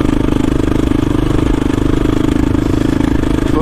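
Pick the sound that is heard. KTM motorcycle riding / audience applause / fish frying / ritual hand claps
KTM motorcycle riding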